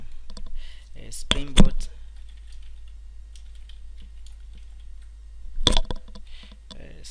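Clacking keystrokes on a computer keyboard come in two quick bursts of rapid typing, close and crisp, separated by a quiet stretch with a voice talking softly.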